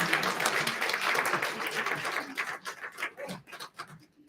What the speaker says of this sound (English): put your hands together and give my mom a great applause for her wonderful presentation